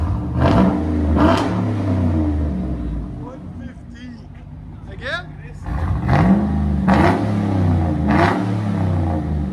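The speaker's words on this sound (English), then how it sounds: "That sounds so good. Dynamax Race Bullet. 3-inch pipe. 5-inch tip." A GMC Yukon Denali with a 6.2L V8 and a Dynamax Race Bullet exhaust (3-inch pipe, 5-inch tip) revving in deep repeated surges close by, with people talking over and between the revs.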